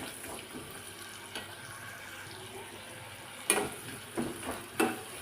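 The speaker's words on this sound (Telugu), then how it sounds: "ఇవి బాగా వేగాలండి." Onions fry in a pan for egg biryani, a faint steady sizzle under a soft hiss with a few louder scrapes and clinks of a spoon near the end and no talking.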